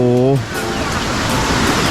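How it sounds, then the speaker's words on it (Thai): Forest stream water flows in a steady, noisy rush, with a brief voice at the start before the continuous broadband gurgle. "เสียงลำธาร น้ำไหลนะครับ"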